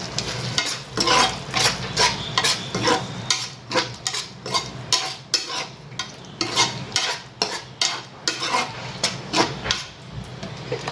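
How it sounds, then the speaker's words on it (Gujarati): Pink pasta sauce with masala and tomato ketchup is stirred in a hot pan, giving rhythmic repeated scraping strokes of a spoon over a soft sizzle, steady and close throughout. "1 સેકન્ડ માટે હલાવી લઈશું"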